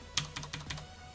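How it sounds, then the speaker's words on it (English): Fairly quiet, close keystrokes on a loud computer keyboard, about five clicky taps spaced evenly over a second, with no voice. "my keyboard is so loud that it occasionally procs the like sensor for the mouth movement on the model"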